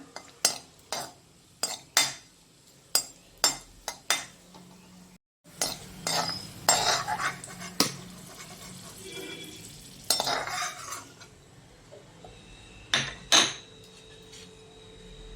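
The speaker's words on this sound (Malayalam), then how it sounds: "ഇനി നമ്മൾ കുറച്ച് റേസിൻസ് ആണ് ഇടുന്നത്. അതുമൊന്ന് മൂപ്പിച്ചെടുക്കാം." Raisins roasting in a pan, stirred with a metal spoon: a run of sharp, evenly spaced clinks and scrapes against the pan over a soft sizzle, with a short pause midway before busier stirring resumes.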